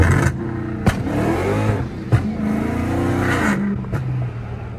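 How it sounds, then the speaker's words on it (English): A Chrysler car engine revs up and down several times nearby, loud and strained, with a whining, squealing belt slip riding over the revs and sharp clicks between. "All you heard was belt slip right there."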